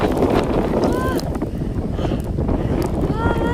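Strong wind buffets the microphone in a steady, roaring rush, with faint brief tones in the background.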